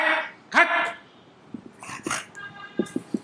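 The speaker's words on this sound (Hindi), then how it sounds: "तू चीखता है क्या शोर में भौंकता है हक हक करता है हक हक।" A dog barks and growls in short bursts, close and fairly loud, with a sharp yelp early on and a quick run of gruff barks toward the end.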